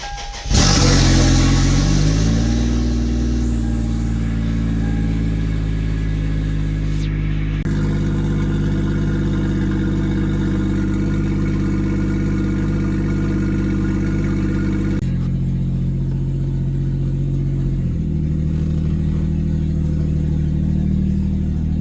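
An engine cranks briefly, catches and roars up in revs, then settles into a steady idle with a couple of further blips, close by.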